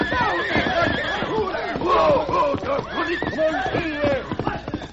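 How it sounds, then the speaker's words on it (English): Radio drama horse effect: a horse whinnies and neighs repeatedly with snorts over clip-clopping hooves, loud and close, with faint crowd-like sound beneath. "Silver snorted and reared to his hind legs"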